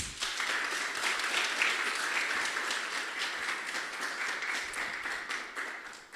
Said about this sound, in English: Another round of applause for the allies as well